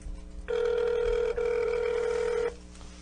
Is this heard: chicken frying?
no